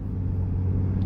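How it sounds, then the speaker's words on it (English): Low, steady engine rumble from a 2026 GMC Sierra 1500 AT4 pickup with its Duramax engine, heard from inside the cab on a drive, a deep continuous drone with no voices. "I like the, you know, the roar that you get from the engine"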